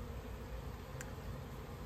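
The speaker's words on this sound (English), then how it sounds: "There's still a few bees flying around" Faint, steady buzzing of a few honeybees flying around a newly hived swarm outdoors, low and continuous with no voices.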